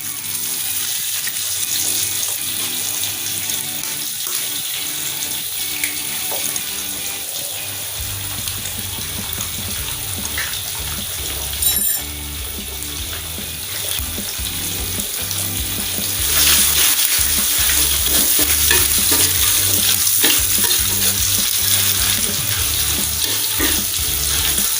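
An egg fries in a pan while making breakfast mie goreng, a broad steady sizzle mixed with a water-like hiss that swells louder partway through, continuous and close, with no speech.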